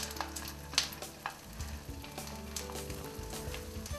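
Kebabs fry in oil in a nonstick pan, giving a steady, fairly quiet sizzle with intermittent crackling spits and light scraping, and faint background music underneath.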